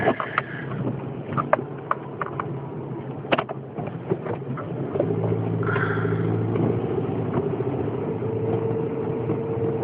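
Car interior on a dismal morning drive to work: a steady low engine and road rumble, with scattered knocks and clicks early on, then a constant droning hum, close and continuous.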